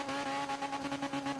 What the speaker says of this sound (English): Just banking her off the rev limiter